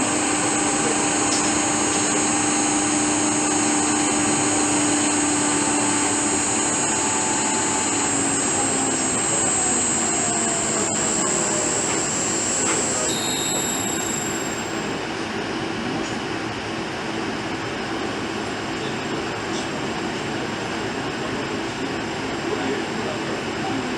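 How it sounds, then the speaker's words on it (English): An inverter-driven motor actuator runs in reverse on a Fuji inverter and transformer under repair, producing a loud, continuous electrical and mechanical drone with a high steady whine whose pitch shifts partway through. "Then we test the reverse action of the motor, and we can see that the actuator moves in the opposite direction."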